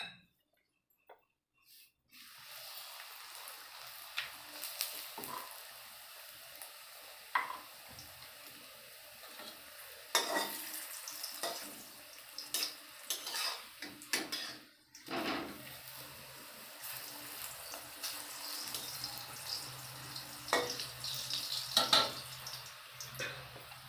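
Bengali luchi, a puffed flatbread, frying in hot oil in a home kitchen with a steady soft sizzle, broken by occasional clinks of utensils and brief louder bubbling bursts as dough is added.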